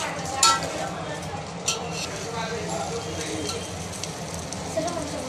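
Crabs are stirred into a masala for crab curry, a spoon scraping and clinking in the pan over a steady sizzle, with a voice talking throughout.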